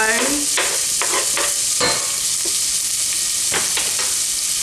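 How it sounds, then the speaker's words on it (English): Diced onion, peeled and sliced, sizzles steadily in a hot pan, with several sharp stirring scrapes and clatters over a constant bright frying hiss, close and fairly loud throughout. "I'm going to add 1 onion that I have peeled and sliced and diced. I'm going to add this to the bottom of my pan"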